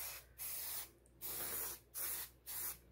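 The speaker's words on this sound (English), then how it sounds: "I done shook this can, so let's go ahead and spray a light coat." Spray paint can laying a light coat on car tail lights, four short hissing bursts with brief pauses between, close and steady, no voices.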